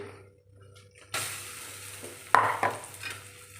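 Moong dal roasts in a pan over medium heat for halwa, heard as soft, low sizzling with a few scraping stirs and light clinks of a spoon against the pan.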